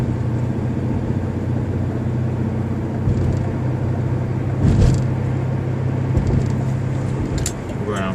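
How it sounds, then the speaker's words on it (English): A 1993 Ford Ranger with a 140-horsepower V6 drives along with a steady, low engine drone and road rumble heard from inside the cab, rising briefly midway, while someone talks over it. "For a little 140 horsepower V6, it moves."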